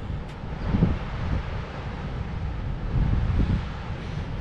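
Wind buffets a microphone at the beach in a low, continuous rumble with gusty swells, and no talk.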